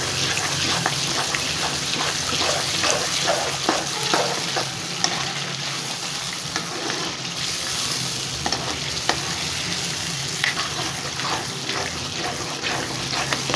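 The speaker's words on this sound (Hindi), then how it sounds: "तीन टेबल स्पून दही, इसको भून लेते हैं।" Yogurt frying in a hot karahi of Shinwari-style chicken, a steady dense sizzle with frequent stirring scrapes and clicks running continuously at close range, with no talking.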